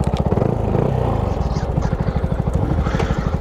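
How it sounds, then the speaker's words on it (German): A motorcycle engine runs close by in a rapid, steady put-put idle of regular low pulses, with some clatter on top and no voices. "machst du dein Motorrad noch an?"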